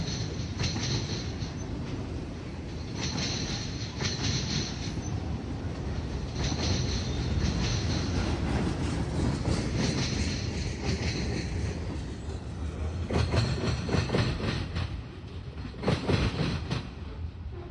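Westbound coal drag freight train rolling past on rails, a loud, steady rumble with rhythmic clickety-clack of wheels over joints and faint high squeals, close and continuous throughout.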